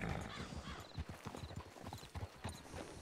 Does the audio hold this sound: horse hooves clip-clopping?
yes